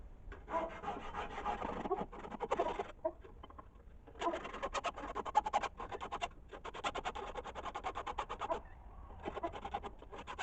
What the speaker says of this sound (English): take my Nicholson file, the finer double cut, and just put about a 45-degree chamfer just on the spine and then also on the blade edge